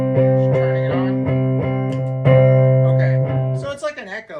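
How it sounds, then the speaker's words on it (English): A sustained C major guitar chord runs through a PT2399 delay pedal, strummed repeatedly with echoing tails that blur into a reverb-like wash, followed by a voice speaking at the end. "So it's like an echo or like a reverb almost."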